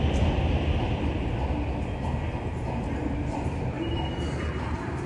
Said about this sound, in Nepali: ठ्याक्क ट्रेन आएर कि दुवै साइडबाट आएर कि उताबाट पनि यताबाट पनि